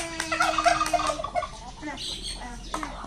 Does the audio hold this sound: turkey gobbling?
yes